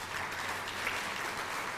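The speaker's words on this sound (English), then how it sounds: "let's give them a round of applause." Quiet, steady applause from an audience at a college hairdressing certificate launch, heard from a distance as an even patter with no breaks.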